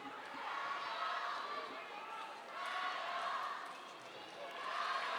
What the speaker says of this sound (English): Crowd now giving a few chants.